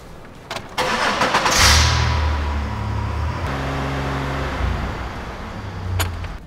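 A Chevy Impala engine cranks and catches, then runs at a steady, loud 2,500 RPM with a strong, constant mechanical drone close to the microphone.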